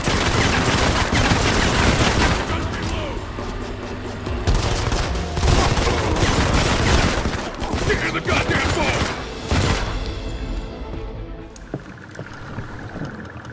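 Loud, dense gunfire from the shooter game Modern Combat 5 comes in rapid bursts separated by short gaps, then fades toward the end.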